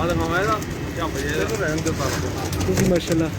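Pigeons of many kinds at a pigeon club shop opening coo repeatedly in soft, throaty, rolling calls, several birds close together, under a busy crowded background with someone speaking briefly.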